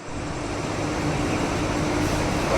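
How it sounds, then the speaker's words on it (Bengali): A train rumbles into Bolpur railway station at night, a steady, loud, broadband roar with a low hum running under it and no talk. "এখন বোলপুর স্টেশনে এসে পৌঁছালাম।"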